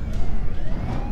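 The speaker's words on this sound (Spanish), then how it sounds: "Sí, eran las sirenas de la policía lo que sus oídos escuchaban." A police siren sound effect in a Spanish-language audio drama, loud and close, a short steady wail lasting about a second with no talk over it.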